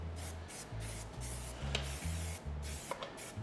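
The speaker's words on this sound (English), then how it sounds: "Just give it a light spray," Grease spray misted into a cake tin for a chocolate devil's cake, a series of short soft hissing bursts repeated in a quick uneven rhythm, close and quiet with no talking.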